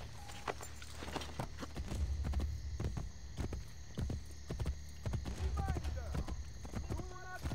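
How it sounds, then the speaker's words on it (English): Horse hooves clip-clopping in Assassin's Creed Brotherhood, a steady repeated thudding with an occasional whinny, heard under a voice and game music. "Need my horse."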